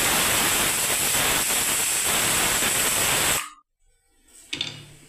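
Pressure cooker with dal on a lit gas stove lets out a loud, steady rush of steam that cuts off abruptly, followed by a short pause and a few fainter hissy bursts.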